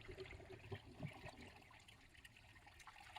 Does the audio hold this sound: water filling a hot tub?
yes